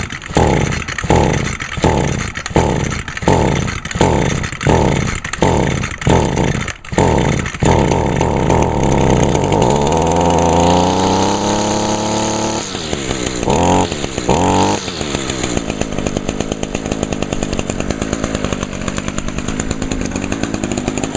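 A small two-stroke engine flooded with Seafoam is pulled repeatedly with a rhythmic recoil-start chugging, then catches and runs loudly up close. It rises and falls in pitch as it revs, sputters briefly, and settles into a rough, steady run.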